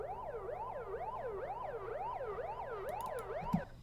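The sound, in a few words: siren sound in a bass house track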